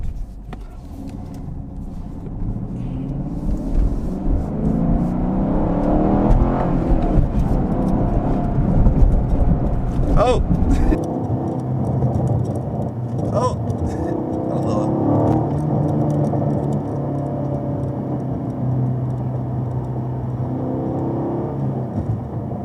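A Chevrolet Camaro SS 1LE on summer tires cruises along a highway, its engine a steady, close rumble with a brief rising surge partway through, road and wind noise continuous underneath.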